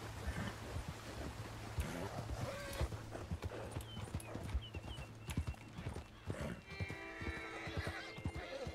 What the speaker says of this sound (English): Jeez, horse, calm down.